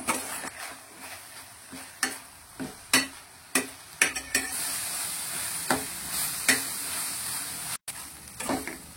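Masala and tomato frying in a pan for soyabean sukka, a constant bright sizzle with sharp, irregular spatula scrapes and taps against the pan, close and fairly loud, with no talking.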